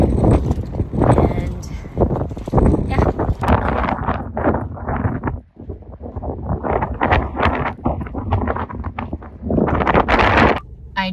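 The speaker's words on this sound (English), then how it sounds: "It's super windy." Strong, cold wind at Mare Island buffets and roars across the microphone in gusts, loud and continuous, while a person talks over it.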